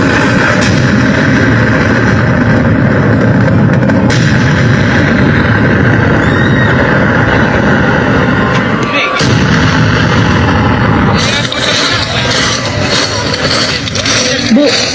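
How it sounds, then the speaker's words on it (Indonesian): Loud, dense artillery booms and bursts of gunfire rumble continuously in a school drama, with sharper cracks standing out, some near and some distant. "tiba-tiba terdengar suara ledakan dan tembakan."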